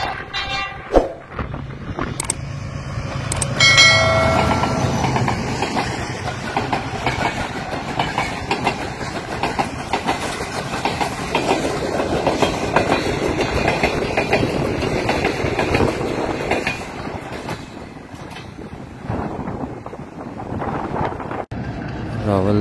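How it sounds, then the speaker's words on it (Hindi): The 6 Down Green Line passenger train, hauled by GU20 locomotive number 4561, rolls through Rawalpindi railway station, a loud continuous rumble of wheels and wagons with rhythmic clattering and a brief horn-like tone early on, heard up close from a footbridge. "सामने से आपको 6 डाउन ग्रीन लाइन नज़र आ रही है GU20 के साथ"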